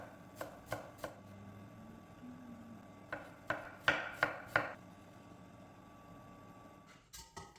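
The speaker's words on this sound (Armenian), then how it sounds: "կտրատենք եփած տավարի միսը" A knife chopping boiled beef, coriander and onion on a board for Olivier salad, with sharp close cuts in two short quick bursts separated by a pause, then a softer clatter at the end.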